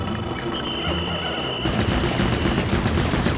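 An enemy machine in the Pikmin 4 game opens fire, a rapid mechanical stream of shots that starts abruptly midway and continues steadily, loud and close, after a stretch of busier game ambience.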